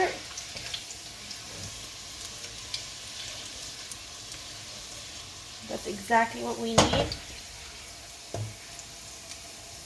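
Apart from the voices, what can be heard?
chili and ginger crackling while frying in a pan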